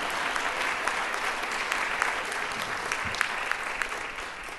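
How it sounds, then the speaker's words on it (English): A book club audience applauds an author at an evening event, giving sustained, dense clapping from many hands. It stays steady and fairly loud, then thins slightly toward the end. "You can clap at this point anyway."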